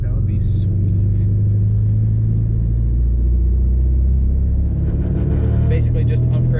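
A Porsche 944's naturally aspirated engine rumbles loud and close from inside the car during a drive, holding a low steady drone through a gear change while someone talks over it.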